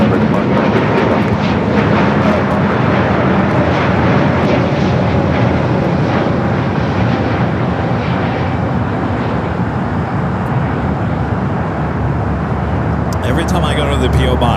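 An airliner takes off from runway 25 left at LAX, its engines a steady, loud broadband roar that fills the whole stretch, with speech audible over it.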